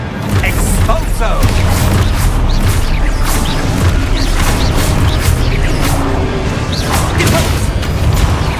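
Loud, dense Expulso spell blasts in a Harry Potter video game, a continuous barrage of booms, crashes and whooshes with sharp repeated impacts throughout, under shouted spell incantations.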